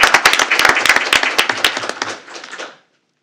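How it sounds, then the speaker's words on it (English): Applause at a school board meeting for the educator of the month: a sparse, close pattering of individual claps from a small group that thins out and stops abruptly after nearly three seconds. "give him a big round of applause"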